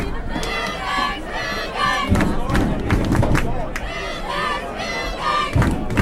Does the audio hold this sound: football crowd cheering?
yes